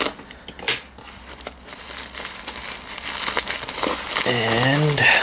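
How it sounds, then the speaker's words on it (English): A package wrapped in bubble wrap being cut open, with close crinkling, rustling and crackling of plastic packaging that builds steadily, and a voice talking near the end. "So, I'm going to cut this guy open."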